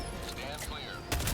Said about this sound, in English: Throw down the barrage and a single cluster bomb.